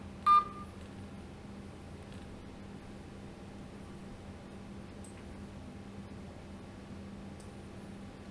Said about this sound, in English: Okay, we're dialing.